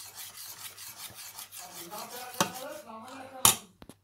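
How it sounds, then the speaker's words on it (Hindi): Khoya, reduced milk made from 1.5 kg of milk, stirred and scraped in a pan, giving soft rubbing and rasping strokes with a few sharper knocks of spoon on metal near the end, fairly quiet and close. "इसको अच्छी तरह हिलाते रहना है कि नीचे से लगे ना।"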